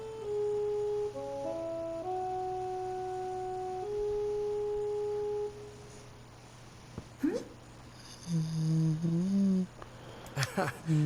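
A character in NieR Replicant hums a jaunty tune, a clear sustained melody of held notes over a faint background drone, followed by short voiced sounds.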